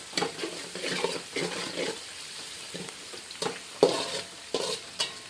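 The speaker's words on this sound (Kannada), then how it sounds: "ಮೊದಲು ಉಳ್ಳಾಗಡ್ಡಿ ಚೆಂದಾಗಿ ಕೆಂಪಗಾಗಂಗೆ ಎಣ್ಣೆಗೆ ಫ್ರೈ ಮಾಡ್ಕೋತೀನಿ ರೀ" Onions frying in oil, browning in a pan for Maharashtra-style poha, with repeated scraping stirs over a steady close sizzle and no voices.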